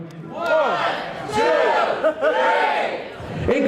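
A crowd at a dance battle event cheers and yells loudly, with voices rising in repeated shouted whoops and hollers that swell and dip over a few seconds.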